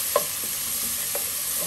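Chopped onion frying in oil in a pot, a steady close sizzle with a few light scrapes and knocks of a spoon as it gets stirred.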